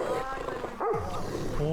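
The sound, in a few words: large dogs barking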